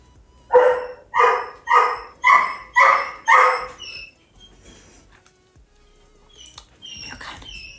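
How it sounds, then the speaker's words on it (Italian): Dog left alone at home barks six times in a steady, evenly spaced series, loud and close, then falls quiet apart from faint whines and small sounds. "Il mio cane."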